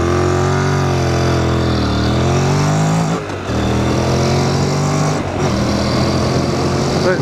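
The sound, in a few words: Honda NC750S motorcycle accelerating from a standing start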